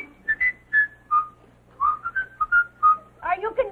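A bird on a quiz show whistles a short tune as a run of clear, tonal phrases with brief pauses, close and fairly loud, with faint background noise and no talk over it.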